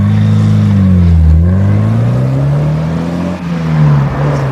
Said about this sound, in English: This is a Porsche 944 Lux, 1983.